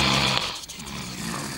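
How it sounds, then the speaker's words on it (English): Snoring from sleeping cartoon shapes in a children's craft show: a short, rough, rasping breath sound, moderately quiet, fading and returning within a second or two. "Who's that snoring?"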